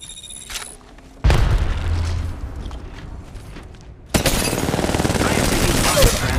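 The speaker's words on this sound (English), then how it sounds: "Opening fire on the enemy." Gunfire from Apex Legends Mobile rings out in two loud bursts, with rapid automatic shots and booming reports separated by a quieter stretch, and faint game voices appear in places.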